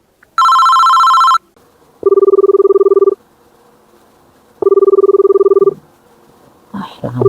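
A telephone rings loudly and close, first a single high electronic trill burst, then two longer, lower warbling rings with a pause between them, followed by the start of a voice.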